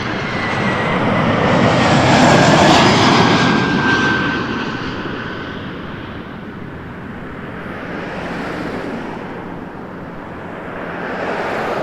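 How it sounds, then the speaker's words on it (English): An Air Canada Airbus A321 jet from Calgary passes at an airport, its engines giving a loud roaring rush with a whining tone that peaks early, then fades into a lower sustained rumble. "A321, Air Canada 150 from Calgary."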